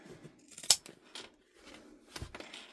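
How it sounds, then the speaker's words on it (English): Close scissors snips trimming fabric seam allowance while sewing a tote bag: a sharp crisp cut, a pause, then another pair of snips, quiet and without talk. "You can use normal scissors as well."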